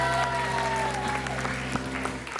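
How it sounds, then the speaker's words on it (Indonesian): Studio audience applause on an Indonesian dating game show, continuous crowd clapping mixed with bright background music throughout. "Tepuk tangan untuk Dewan Cinta."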